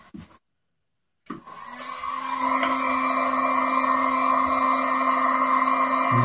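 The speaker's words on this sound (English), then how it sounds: "what you can do there is you can take your heat gun" A heat gun blows hot air onto a recessed center-grip shield. A brief blip and a moment of silence come first, then a steady, loud whooshing hum with a whine that holds to the end.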